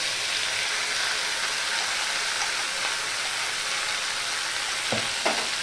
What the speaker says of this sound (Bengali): এবার আমি এই পেস্টটা এর মধ্যে দিয়ে দিচ্ছি।